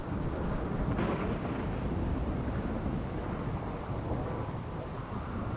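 Thunder rolls through a flash storm in RimWorld, a dense continuous rumble mixed with steady rain, moderately loud and unbroken with one brighter crack early on.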